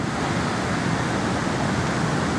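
A waterfall rushes close to a tent in Norway, a steady, dense roar of falling water that stays constant and fairly loud throughout, with no voices over it.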